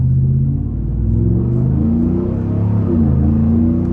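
A Ford Raptor pickup's engine rumbles deep and steady from inside the cab while driving, a constant low drone with slight rises in pitch.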